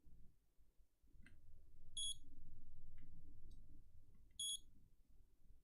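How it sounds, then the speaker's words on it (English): A repair station's timer alarm beeps in two short high-pitched bursts a couple of seconds apart, sounding over a steady low hum and faint handling noises. "That's the timer."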